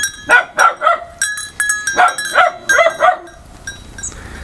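An almost 8-month-old dog barks repeatedly in quick, loud bursts close by, a steady run of yaps that fades near the end.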